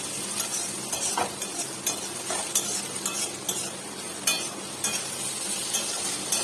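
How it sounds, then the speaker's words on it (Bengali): Oil sizzles steadily in a pan while a utensil stirs and scrapes in repeated strokes, close and fairly quiet, with no talking. "ভাজতে ভাজতে একদম নরম হয়ে গেছে গাজরটা"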